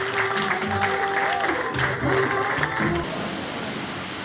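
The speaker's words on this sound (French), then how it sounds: "Applaudissements pour Patrick Marcel." An audience at a New Year's wishes ceremony breaks into clapping. The applause stays fairly loud for about three seconds under a murmur of voices, then drops away to a quieter room hum.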